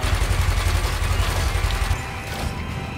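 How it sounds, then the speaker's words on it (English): A spaceship fires its weapons in the space combat game Elite Dangerous, a dense, rumbling barrage of rapid shots and booms that fades into a lighter mechanical hum near the end, with no talk over it. "And we're opening fire on him."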